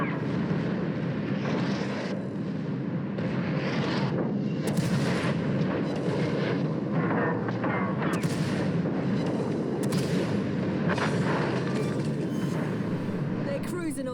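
Naval artillery shells fire in the World of Warships video game, heavy booming salvos repeating every second or two over constant engine and sea rumble, while someone talks over the action.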